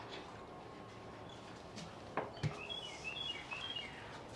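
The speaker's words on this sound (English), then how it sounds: "The sounds of these birds is just, they're singing to my heart." Small birds chirp and tweet outdoors during a broccoli microgreen harvest, with a few light high calls spread across the scene over a low steady background and a couple of soft handling knocks.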